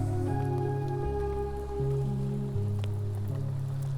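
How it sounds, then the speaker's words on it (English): Steady rain falls outdoors by a lake in wild forest country, a constant close hiss over a low droning hum, with no voices. "sometimes the rain lets up a bit, but I don't think it's gonna stop"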